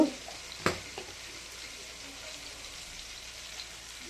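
Chicken sukka sizzles steadily in a pan with turmeric, coriander and black pepper powder while being stirred, a faint continuous fry with a couple of brief scraping knocks near the start.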